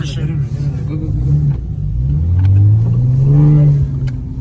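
Big-turbo cars, including a turbocharged Honda Civic, rev hard at drag racing lanes in Mexico, a loud, steady engine roar that swells and climbs in pitch midway before easing off.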